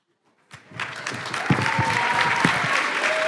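After a moment of silence, an audience breaks into applause that swells quickly and holds as a full, steady wash of clapping, with a few exclamations from the room.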